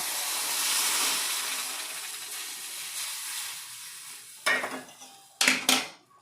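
Boiling water is poured into roasted semolina in a pan for rava kesari, a steady hissing steam and sizzle that fades, then a few sharp clinks and scrapes of stirring near the end.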